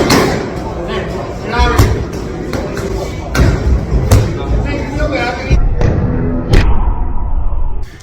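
Gloved punches smacking boxing focus pads in quick 1-2 combinations, a string of sharp close thuds spaced across the clip with a trainer's voice talking over them.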